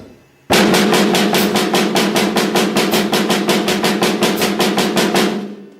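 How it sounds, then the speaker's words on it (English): A snare drum plays a steady, even stream of fast sixteenth-note strokes, loud and close, sustaining a constant rhythm for about five seconds. "here it is on the snare drum, and I'm playing the 16th notes."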